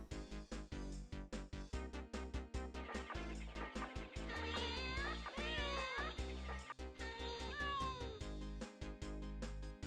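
Cats meow in the Jingle Cats video game, their cries set into a bouncy, rhythmic music track with repeated pitched meows over steady beats.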